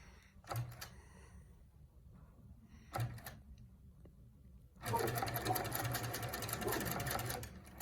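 A longarm quilting sewing machine run by a Pro-Stitcher couches names onto a quilt. Two brief stitching taps come first, then a steady, fairly loud mechanical run of stitching carries on to the end, nearby and without talk.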